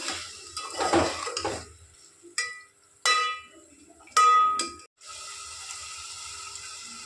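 A spoon clinks and scrapes against a metal pot while food is stirred, several sharp ringing knocks spaced irregularly, with soft kitchen noise and a faint hiss between them.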